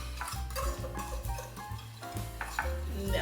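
Ingredients are whisked in a bowl for fried shrimp, giving a quiet, continuous scraping and stirring with faint clinks of utensil against the bowl.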